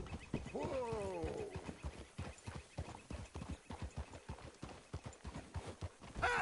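Steady clip-clop of horse hooves at a walking pace in Red Dead Redemption 2, fairly close, with a brief animal vocalization near the start.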